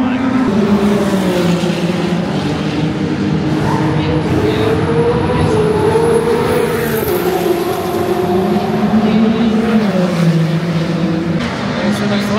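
Endurance race cars, including Ferraris and a Cadillac, lap the Circuit of the Americas during the WEC Lone Star Le Mans. A loud, continuous engine drone rises and falls in pitch as the cars pass.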